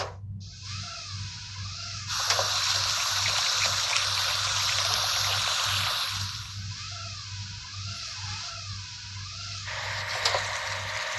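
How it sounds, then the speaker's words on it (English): Water splashing and trickling over a toy container ship, a continuous close rush with brief calmer gaps, backed by a steady low hum and warbling tones in the background. "We need to wash container ship."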